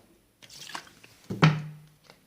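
Sprite poured into tea gives a short, close pour with splashing drips and a brief fizzing gush, lasting about two seconds.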